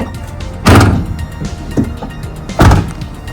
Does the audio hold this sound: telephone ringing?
no